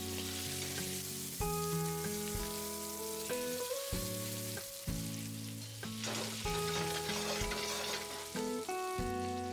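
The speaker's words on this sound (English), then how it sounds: "in a hot pan, add 60 grams or 2 large cubes of butter." Butter melts in a hot pan with a continuous crackling sizzle, close and steady, alone beneath a soft melodic music bed.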